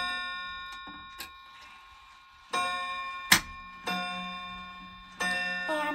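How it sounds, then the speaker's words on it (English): A Ridgeway mantle clock in a small clock-filled closet, its chime struck several times: ringing, sustained tones with slowly decaying harmonics, each new strike layering over the last, with no talking. "Here is the Ridgeway mantle clock."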